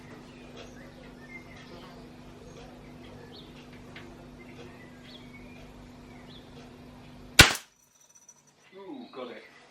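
A single sharp cap gun shot cracks loudly at a target after several seconds of quiet room tone with a faint steady hum, followed by brief soft rustling.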